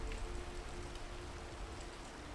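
Steady rainfall in the video game Skyrim, a constant soft hiss of falling rain with low rumble beneath, even and unbroken throughout with no talk.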